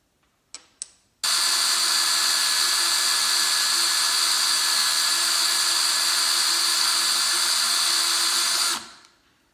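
A power neck turning tool cuts a cartridge case neck in one continuous high-pitched whine lasting about seven seconds, preceded by a couple of brief clicks and ending with a quick spin-down, close and loud.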